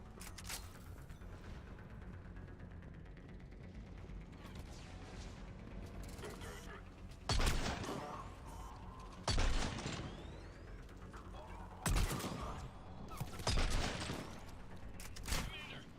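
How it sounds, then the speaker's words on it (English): Mortar fire in Mass Effect 3, heard as four sharp, loud blasts spaced a few seconds apart over a steady rumbling battlefield din. "Commander, we're getting a lot of mortar fire."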